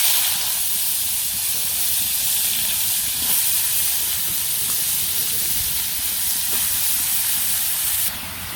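Vegetables hit hot oil with blackened cumin in a village kitchen, giving a steady, loud sizzling hiss that carries on evenly and eases slightly at the end.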